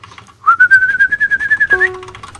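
After a short quiet start, someone whistles a sustained rising, warbling tune in quick pulses, close to the mic, followed by a short game beep near the end.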